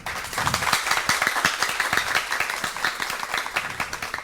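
A school audience at a French high-school quiz contest applauds a correct answer with steady, dense clapping that keeps going throughout at fairly close range.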